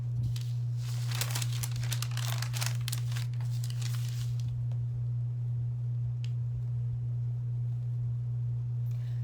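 A piece of paper handled and crumpled while decoupaging a bulletin board, with a burst of close crinkling and rustling over a steady electrical hum, then quieter occasional crackles.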